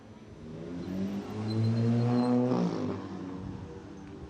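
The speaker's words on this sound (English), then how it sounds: "As the cars head into the pit lane, they'll be waved through by the marshals into Parc Fermé." TCR touring race cars roll into the pit lane at the Red Bull Ring in 2015, engines droning steadily with a rising, swelling note as they pass fairly close, then easing off again.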